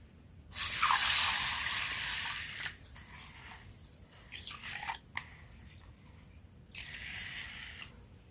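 Water pours over sago pearls in a bowl for soaking, a steady rushing splash for about two seconds, followed by a few shorter trickles and pours, close and fairly quiet.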